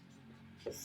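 Pen writing on paper during a maths lesson, a brief soft scratching stroke, faint and close.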